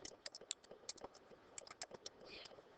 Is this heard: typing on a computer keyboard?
yes